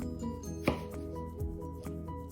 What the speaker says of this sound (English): just keep cutting all the tomatoes until they are completely cut.